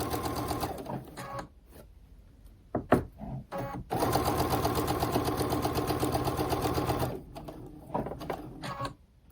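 Sewing machine stitching quilt fabric in short bursts at close range, a quick rattling of stitches, pauses with handling noises, then a steady run of several seconds before slowing and stopping.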